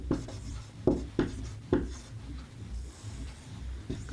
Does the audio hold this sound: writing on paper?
yes